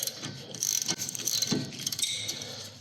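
A 17mm spanner clicks and ratchets against a brake caliper bolt on a Nissan Qashqai J10 front brake, with quick metallic ticks and taps close by and no talking.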